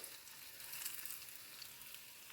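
Cauliflower and broccoli fry in a little oil in a pan over high heat, giving a steady, soft, close sizzle and crackle with no voices.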